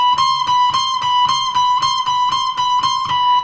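Electric guitar plays a repeating triplet lick, a bright, clean, sustained note pattern with evenly spaced picked attacks cycling over and over, close and clear with no other sounds.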